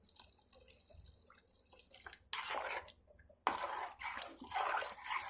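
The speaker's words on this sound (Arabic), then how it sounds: "ازود بس ميه كده الكميه اللي انا عايزاها" Tap water poured into a cooking pot for a red taro and meat soup in a home kitchen, arriving in a few short splashing bursts, quiet and close, with drips between them and no talking.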